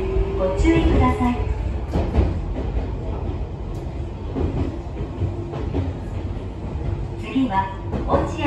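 A Tokyo Metro 15000 series subway train with Mitsubishi IGBT drive rumbles along the rails with rhythmic clicks and clatter, a steady low roar throughout, with brief voices in the background.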